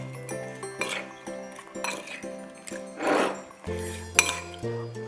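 Prawns being tossed with salt and pepper in a bowl, spoon or utensil clinking and scraping against the dish in repeated light knocks, close and clear, over faint background music.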